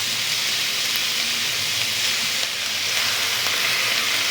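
Chopped tomatoes frying in a hot pan for paneer masala, a steady loud crackling sizzle that runs on without a break and with no talking.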